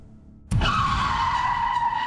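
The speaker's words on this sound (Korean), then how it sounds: "교통사고가 났습니다." Car tires skidding in a traffic accident, a sudden loud screech that starts after a quiet moment and holds steady as a sustained, close squeal.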